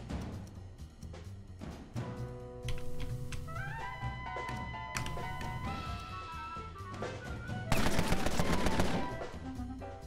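Gunshots ring out in a 1920s gangster strategy game, Empire of Sin, as sharp repeated cracks over a backdrop of game music and tonal effects.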